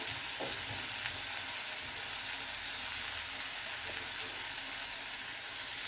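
Okra and tomato frying in a pan for an Andhra-style curry, a steady loud sizzle with occasional stirring clinks, close and continuous, no talking.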